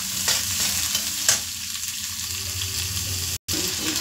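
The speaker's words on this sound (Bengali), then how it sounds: "পেঁয়াজটা খুব ভালো করে লাল করে ভেজে নেবো আমি" Onions fry in a pan with a steady loud sizzle, a couple of brief stirring scrapes breaking through, close and without talk.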